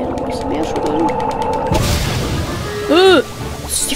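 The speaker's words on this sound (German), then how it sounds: "Ist die Flasche einfach explodiert?" A sudden booming burst from a shaken bottle exploding in a game cuts in partway through, followed by chiming game effects, with a voice talking over it.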